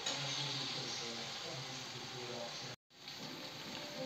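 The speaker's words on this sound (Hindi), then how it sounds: "मसाला जो है तेल हल्का हल्का छोड़ने लगा है, लेकिन इसे अभी हमें 5 मिनट और भूनना है।" Masala sizzling in oil in a pan for a potato and tomato sabzi, a steady faint frying hiss that continues throughout with one brief dropout.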